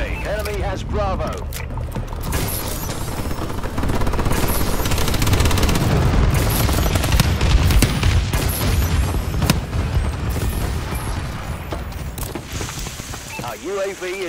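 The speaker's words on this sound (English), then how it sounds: "Friendly bombing run clearing the way." A bombing run in Call of Duty: Advanced Warfare multiplayer: booming explosions and rattling bursts of automatic gunfire pile up loudly over several seconds, with voices talking over the din at the start and end.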